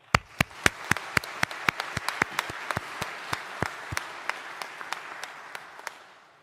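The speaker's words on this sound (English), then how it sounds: "So one more big cheer for them." Graduation ceremony audience at Greenwich University clapping: crisp, scattered individual handclaps, fairly quick at first, then thinning out and growing softer as they die away.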